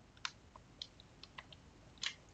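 Computer keyboard keys pressed for a shortcut: a handful of quiet, separate clicks and taps at an uneven pace, close and faint, with no talking.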